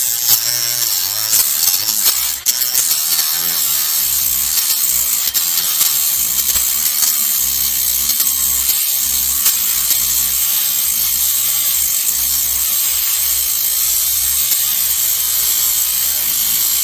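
A Parkside drum sanding bit on a power tool strips old paint at low speed, a steady, harsh, loud grinding whir that runs unbroken throughout, close up and unaccompanied by speech.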